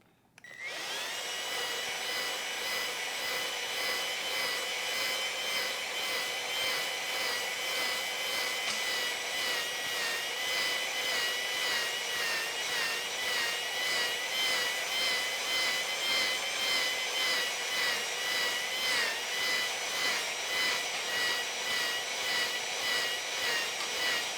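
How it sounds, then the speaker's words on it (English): A steady, loud mechanical whirring with a rapid rhythmic pulsing as a drill-driven hone works up and down inside a cylinder of a 1972 Triumph GT6 engine, cross-hatching the bore, continuous throughout. "we're gonna spin the drill slowly, but we're gonna move the tool up and down fast"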